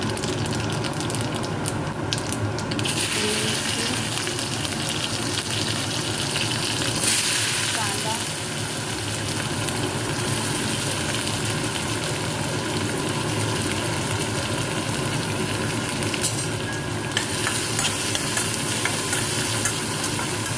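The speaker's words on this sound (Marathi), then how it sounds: "मी तेलामध्ये आपल्याला जिरा टाकून घ्यायचा" Cumin seeds frying in hot oil in a kadhai, a continuous loud sizzle with faint scraping, steady throughout.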